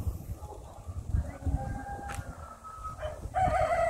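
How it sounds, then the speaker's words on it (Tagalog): A rooster crows in the distance at Kadoorie Farm over a busy, rumbling outdoor background, with a second, closer crow toward the end. "Tilaok ng manok."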